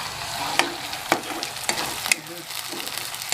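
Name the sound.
spice paste frying with onions in a pan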